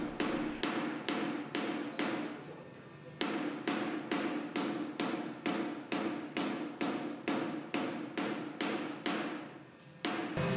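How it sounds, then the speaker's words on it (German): Steady series of sharp metal hammer blows on a freshly welded seam of an Alfa Romeo Giulia SS fender, worked with a small hammer; about a dozen and a half evenly spaced strikes, close and loud, with a brief pause early on. "Eventuell muss die Naht nach dem Schweißen mit dem Kletterhammer etwas bearbeitet werden."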